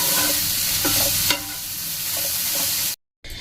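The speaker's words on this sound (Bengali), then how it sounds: "এবার এগুলোকে সুন্দর করে মিশিয়ে বা কষিয়ে নেব।" Soybean chunks stir-fried with chicken masala in a pan for an egg roll filling, a steady close sizzle broken by repeated scraping strokes of a spatula, with a brief dropout near the end.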